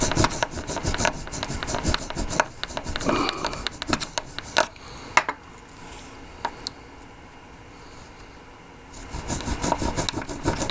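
Clear tubing for a slip bobber is cut by hand with scraping, rasping strokes that come in uneven bursts, pause in the middle and pick up again at the end.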